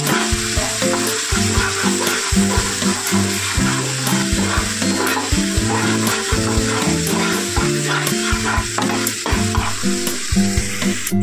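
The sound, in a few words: sautéing spice masala in a pan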